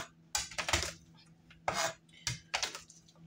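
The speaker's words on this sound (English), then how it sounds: "So I'm just gonna crush them with the knife and then I'll just chop, chop," A knife chops crushed garlic cloves for stuffed shells on a cutting board, giving several sharp, close knocks in irregular bursts with short pauses between them.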